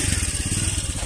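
A scooter engine runs close by with a fast, even low throb for about a second before cutting off abruptly.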